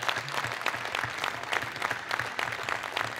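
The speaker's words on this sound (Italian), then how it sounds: "tutti e due meritano un applauso" A crowd applauds at a final outdoor political rally in a town square, a faint, distant, dense wash of clapping that stays steady throughout.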